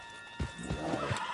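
A horse in Red Dead Redemption 2 whinnies and snorts in short bursts, close and clear, with faint hoof movement beneath a steady in-game background hum.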